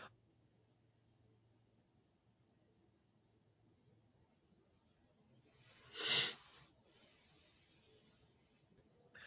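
One muffled cough bursts out after a long stretch of near silence, brief and fairly close.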